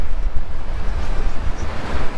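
Mediterranean sea surf along the Antalya coast washes in a steady, loud rumble mixed with heavy wind buffeting the microphone, with no voices.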